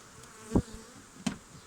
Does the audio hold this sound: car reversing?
no